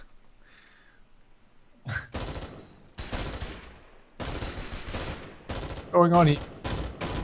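Gunfire from shooting at a cube in the survival game Pantropy: loud, dense bursts of automatic fire in several long volleys with short gaps, under a brief spoken remark.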